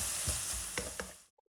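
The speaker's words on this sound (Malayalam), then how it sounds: "സവാള ഏകദേശമൊക്കെ വഴന്നു വന്നിട്ടുണ്ട്." Sliced onions sautéing in a pan for a Punjabi dhaba-style dal roast give a steady close sizzle, with a few short stirring scrapes before the frying noise cuts off abruptly.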